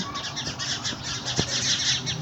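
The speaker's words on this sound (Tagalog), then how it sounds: "ang ganda ng huni ng ibon" Birds chirp and twitter continuously in a busy chorus, fairly close, with a few soft thuds underneath.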